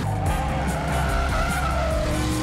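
Tires skid hard during a car chase in the 2007 film Death Proof, a loud, continuous squeal layered over a roaring engine, with no talking.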